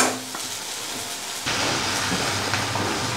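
Raw plantain fries in a pan, a dense, steady sizzling hiss close by that grows louder partway through, with no talk.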